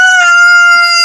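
A rooster at a chicken house with tarpaulin housing crows once, loud and close, a sustained strongly tonal call lasting about a second.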